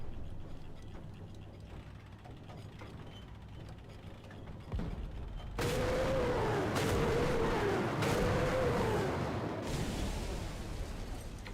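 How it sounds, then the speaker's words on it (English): Panzerwerfer 42 rockets launch in War Thunder with ratcheting mechanical clanks, then a loud rushing roar. A rising and falling whine follows, cut by several sharp impact bangs. "So those rockets, I was trying to just fire them just over the top of the castle wall"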